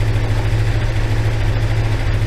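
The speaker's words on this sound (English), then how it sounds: "Bike running warm at about 1500 revs" A warmed-up four-cylinder motorbike engine idles at about 1500 rpm during carburetor synchronisation, giving a steady low, even throb up close with no talking.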